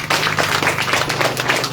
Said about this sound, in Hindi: एक बार सब लोग अपने लिए जोरदार ताली